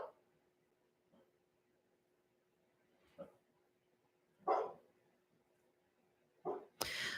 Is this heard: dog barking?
yes